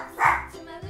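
A small groomed dog in a cartoon pet boutique gives a short single bark over a faint background, with speech around it.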